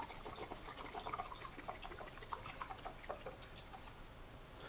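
Quiet steady pour of 99% isopropyl alcohol from a 16-ounce bottle into a measuring cup, a soft continuous trickle with small gurgles, near and alone.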